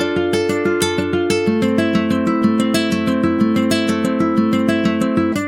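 A plucked guitar repeats a steady triplet melody over a minor chord, notes evenly spaced and bright, played alone at a moderate, constant volume.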